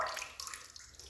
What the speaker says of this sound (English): take your rag, rinse it out in some water